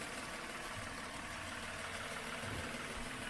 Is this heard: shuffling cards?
no